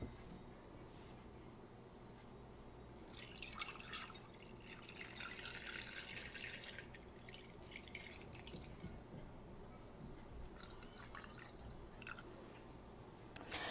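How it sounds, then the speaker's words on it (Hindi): Homemade ghee from butter poured through a net cloth into a jar, giving a soft steady liquid trickle with faint drips and a brief splashy burst midway, quiet and close with no talking. "हम यहाँ नेट लगा रहे हैं अपने जार पर और अब हम इसे डाल रहे हैं अपने जार में।"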